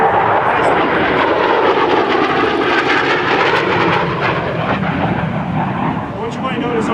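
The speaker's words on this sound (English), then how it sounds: "That is AV-8B Harrier high-speed pass." An AV-8B Harrier II jet roars past in a high-speed pass at an air show, a loud, broad engine roar that stays dense throughout and eases slightly toward the end.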